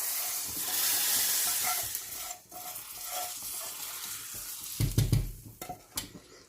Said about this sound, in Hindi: और अब हम इसको मिक्स करेंगे।